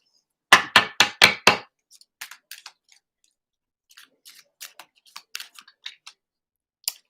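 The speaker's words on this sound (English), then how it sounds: "Okay, so I'll shuffle again." A deck of tarot cards being shuffled: a burst of four loud, close riffling strokes, then scattered lighter card taps and flicks spaced over several seconds.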